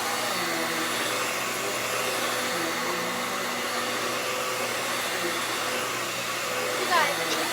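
A vacuum cleaner runs outdoors with a steady, continuous whirring drone that holds even throughout, with a brief rising sweep near the end.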